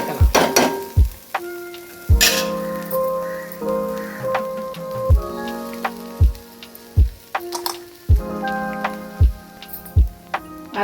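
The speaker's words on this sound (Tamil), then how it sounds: "இனி நல்லா கிண்டி விட்டுடலாம்." A spoon stirs ground paste into Kerala-style beetroot thoran in a pan cooked with coconut oil, giving repeated close knocks and scrapes in an uneven rhythm over a steady tonal background.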